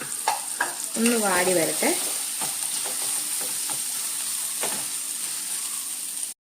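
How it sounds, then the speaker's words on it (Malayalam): Sliced plantain sizzles and fries in hot ghee for a Kerala-style snack, a steady crackling hiss with stirring scrapes, while a voice speaks briefly over it. "ഈ നെയ്യിലേക്ക് തന്നെ നമ്മൾ അരിഞ്ഞു വെച്ചേക്കുന്ന ഏത്തക്കായും കൂടി ഇട്ടൊന്ന് ഫ്രൈ"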